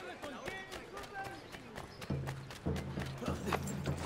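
Rhythmic clip-clop of horse hooves trotting nearby in the video game Assassin's Creed III, steady and fairly loud, with low rumbling tones joining partway through.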